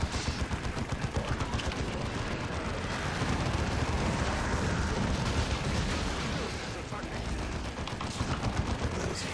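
Venom cannons and barbed weapons fire in the Dawn of War 2 strategy game, a relentless stream of loud rapid shots and blasts pounding continuously.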